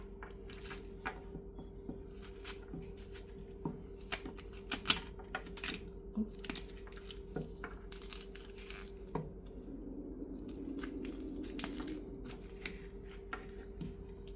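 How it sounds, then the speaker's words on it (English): A spoon scrapes the seeds out of a halved bitter melon: soft, repeated wet scratches and squishy scoops over a steady low background hum, fairly quiet and close, with no speech. "you cut it in half, and then you just take a spoon and just scoop out the seeds like this"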